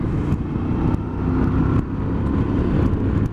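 A motorcycle rides steadily along a road on the way to a 2018 motovlogger meetup, its engine and wind noise a loud, continuous drone throughout.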